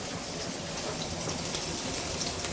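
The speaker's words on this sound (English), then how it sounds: "Let me rinse my hands off right here." Water runs steadily from a tap as hands are rinsed in a home kitchen during a steak-cooking session, a constant close hiss without pauses and no talking.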